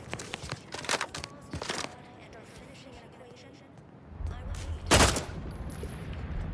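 Burst-fire assault rifle shooting in the video game Outer Worlds 2, sharp bursts of gunfire, a few early and a louder burst near the end, with in-game movement noise between shots.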